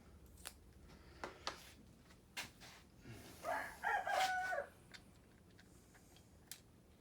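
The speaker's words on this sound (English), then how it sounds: "Sorry about my rooster out there." A rooster crows once from outside, distant and faint, during a Kawasaki Teryx V-twin cam shaft and timing chain install. Scattered tool clicks and ticks run through the quiet background.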